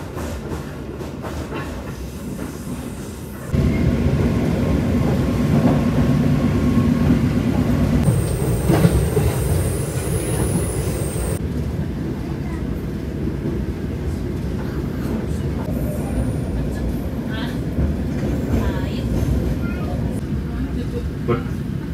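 Steady rumbling roar of a train rolling on rails, with a continuous rattling clatter and a brief high squeal partway through as it crosses switches and rail joints.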